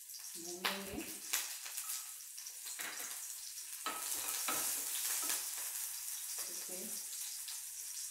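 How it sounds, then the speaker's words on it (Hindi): Green chilies, ginger and garlic fry in hot oil while being stirred. A steady, close hiss and sizzle runs throughout, with a few louder scrapes and clatters of the spoon against the pan near the start. "सबसे पहले हम इसमें हरी मिर्चें, अदरक और लहसुन डाल देंगे और इनको डालकर अच्छे से"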